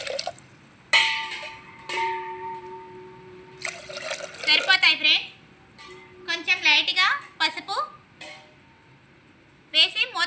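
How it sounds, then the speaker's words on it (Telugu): Water is poured into a pressure cooker holding lentils for Andhra-style sambar, a short trickle with clinks of the pot, while someone talks over it. "ఫ్రెండ్స్ కొన్ని వాటర్ పోసుకుందాం ఫ్రెండ్స్"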